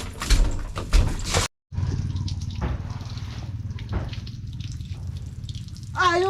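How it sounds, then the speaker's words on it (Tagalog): Water runs and splashes while a vehicle is washed at a farm, a steady close hiss of flowing water with brief splashy bursts and a short break, and faint voices at the start and end. "So paliliguan naman natin yung sasakyan."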